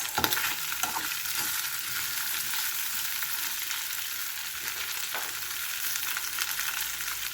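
Potatoes fry in a pan with dense, continuous sizzling and occasional stirring scrapes, loud and close, with no talk over it.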